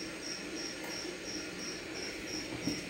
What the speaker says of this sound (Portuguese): ao som do grilo